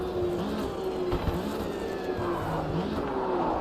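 Race car engine in a sim racing game revving with manually blipped throttle, a whining, rising and falling engine note with pitch sweeps across downshifts, steady and fairly close.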